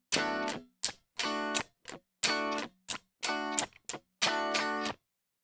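A funk rhythm on electric guitar alternates fretted and released notes in choppy bursts. Sustained chords cut off sharply, and short muted stabs fall in between, close and fairly loud with no talking.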